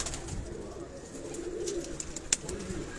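Champion breeder pigeons kept on a rooftop give soft, low cooing, faint against a light background hiss, with one brief sharp click near the end.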